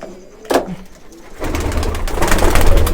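Muski fancy pigeons at a pigeon farm make a sharp flutter or knock, then a dense, rising murmur of cooing and wing rustle close by, with no talk.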